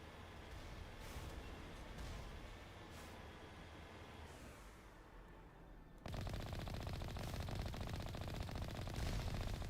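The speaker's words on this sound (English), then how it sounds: "I do like the sound of the gun" Turrets in Mass Effect keep up a pulsating stream of rapid gunfire. A dense, rattling burst rolls on, then jumps abruptly louder and harsher partway through and continues as steady mechanical pulsing.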